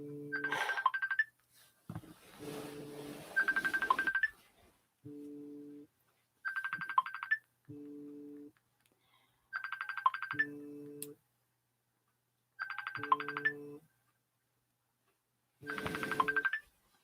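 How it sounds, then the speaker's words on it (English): A phone app ringtone rings in repeated bursts of a bright looping melody, each lasting about a second or two and separated by short silences, moderately loud and heard alone. "That'll probably just keep ringing all night now until I delete the app."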